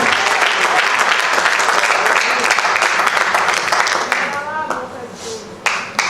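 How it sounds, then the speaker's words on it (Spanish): A church congregation gives loud, dense applause that gradually thins out, with voices and a brief tonal shout emerging as the clapping fades near the end. "Denle un fuerte aplauso a Jesús"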